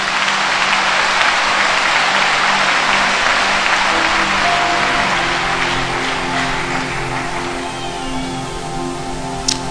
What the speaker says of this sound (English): Somebody clap your hands to Jesus.